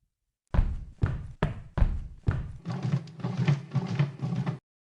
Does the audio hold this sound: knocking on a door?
yes